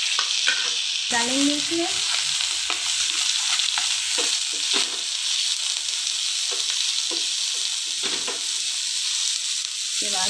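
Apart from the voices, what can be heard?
onion frying until light brown in pan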